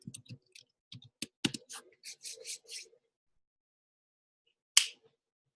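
Computer keyboard typing in a quiet room, a quick run of light key clicks over about three seconds followed by a pause and one sharper tap, close and fairly faint with no talking.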